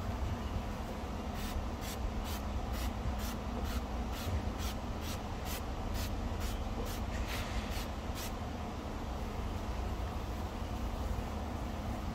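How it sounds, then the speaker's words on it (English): Quick bursts of a spray bottle spraying Vonixx Izer iron fallout remover on a car, a rapid series of short hissing squirts, then the spraying stops, over a steady background noise. "So I'm going to spray it again."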